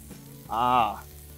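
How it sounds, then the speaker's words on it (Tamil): Sliced medium-sized onions fry with other ingredients in a pan, giving a low steady sizzle. A brief, loud tonal burst rises over it in the middle, then the frying continues alone. "அந்த மீடியம் சைஸ் வெங்காயத்தை ஸ்லைஸ் பண்ணி இங்கே போட்டிருக்கிற எல்லா இன்க்ரீடியன்ஸ் கூட போட்டு இதை நல்லா ஃப்ரை பண்ணுறேன்."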